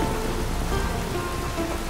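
Steady rain falls on a night scene in The Witcher 3 next-gen edition on PC with RTX, a dense continuous hiss of drops on surfaces with no voices over it.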